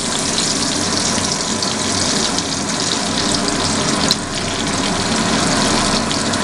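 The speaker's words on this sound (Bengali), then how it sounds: "ভালো করে একটু করে ফ্রাই করে নেওয়া হলো" Tomato, bay leaves and cumin seeds fry in hot oil for a Bengali dal with fish head, giving a steady, dense sizzle that stays loud and unbroken from start to finish, with no voices.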